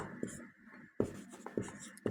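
Chalk or marker tapping and scraping on a board during a maths lesson, a few sharp strokes with short pauses between them, near and moderately loud.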